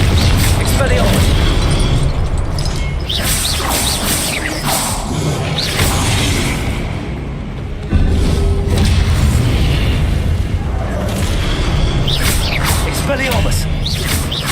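Expelliarmus spell effects from Hogwarts Legacy combat: repeated booming blasts and swishing whooshes over a dense, loud game soundscape, with a sharp impact near the middle and continued clashing bursts.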